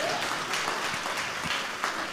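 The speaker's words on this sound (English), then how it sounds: "If we're all going to clap, we're going to do it together." A church congregation claps during a sermon on spiritual gifts, a full, steady round of hand clapping with faint voices mixed in beneath it.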